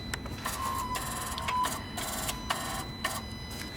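The electronic turbo actuator on a BMW M140i runs its self-test, giving faint whirring motor bursts and short electronic tones that start and stop in an irregular pattern against quiet workshop background.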